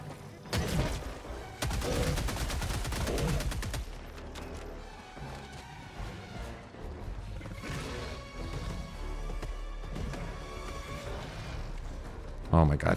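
The Tenderizer gun fires in a video game, opening with a dense rapid burst of shots and then a few scattered bangs. A voice talks over the gunfire throughout.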